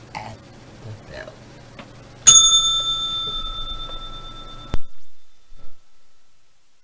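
A single loud bell strike rings out sharply and sustains a bright metallic tone for a couple of seconds before cutting off, with some quiet rustling before and a few soft knocks after.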